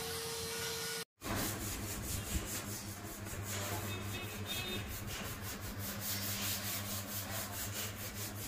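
A bike mudguard being polished with a rubbing pad gives a steady, close, rhythmic scrubbing and swishing that continues without pause after a brief cut near the start.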